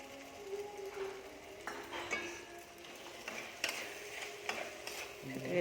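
A utensil stirs mushroom chow mein with tomato sauce and soy sauce in a pan. Soft, irregular scraping and faint clinks sound close by against a low, steady background.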